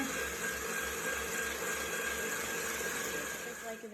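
An electric mixer whirs through coffee cake batter with eggs and milk, a faint steady hum with a pulsing low rhythm as it churns, running continuously and alone.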